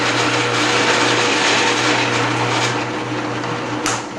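A power drill bores an entry hole into the wooden bottom of a scrolled round inlay box, giving a loud, steady whirring drone that runs without a break and shifts slightly just before the end.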